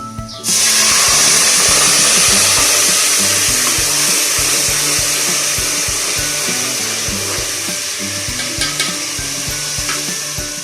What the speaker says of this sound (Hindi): अब ये प्याज ब्राउन हो गया। अब मैं इसके अंदर पानी डालूंगी।